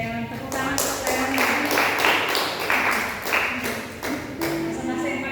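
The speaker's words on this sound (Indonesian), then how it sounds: "Tepuk tangan untuk Leon." Applause from a church congregation at a year-end worship service, a steady wash of clapping hands lasting several seconds, with voices and some music underneath.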